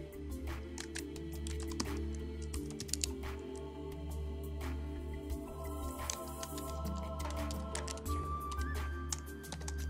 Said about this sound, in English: I'm going to set up iCloud by putting in my username and password.